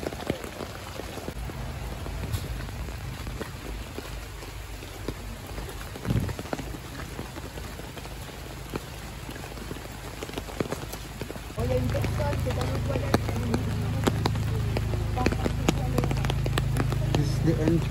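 Heavy rain patters steadily with scattered drops and taps at the Hermitage entrance, growing noticeably heavier and louder partway through, as people talk at times.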